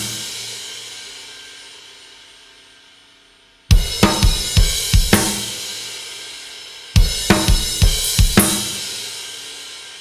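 Drum kit playing the ending of a song, with two loud, close bursts of rapid rim shots and rack tom hits, each ringing out into decay, with no talking.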